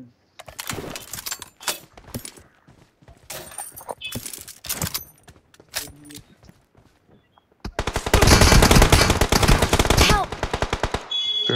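Gunfire in the battle royale game BGMI: scattered rapid automatic bursts and single shots, then a long, loud, sustained machine-gun volley that stops abruptly near the end.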